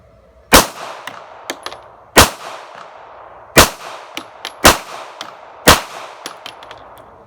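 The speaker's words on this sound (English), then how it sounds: "So let's see how it shoots." Sig Sauer P365 pistol firing five loud, sharp shots at uneven intervals of one to two seconds, each crack followed by a brief ringing tail and faint clinks between shots.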